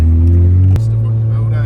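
A Mazda RX2 with a rotary engine drones loudly nearby, its steady engine tone dropping in pitch partway through as it pulls away.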